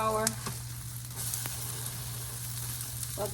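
Sausages fry in a pan for a breakfast, giving a steady close sizzle with a constant low hum underneath and a few light clatters, and no one speaking.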